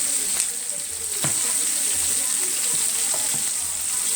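Mustard chicken sizzles steadily in a hot pan, a dense continuous crackle with a few sharper pops and faint clinks, moderately loud and close, with no talk.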